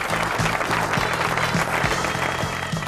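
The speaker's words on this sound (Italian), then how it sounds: "Un applauso a questo meraviglioso pubblico" Dense, steady applause from a fashion show audience in Ancona fills the clip, loud and continuous, with a rhythmic musical beat pulsing underneath.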